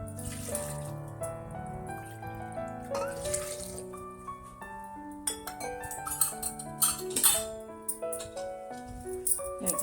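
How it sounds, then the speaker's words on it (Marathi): Water pours into a pot of wet red dates for jam, a continuous splashing, gurgling stream that grows busier and more broken toward the end, close by. "2 कप पाणी टाकायचं आपल्याला."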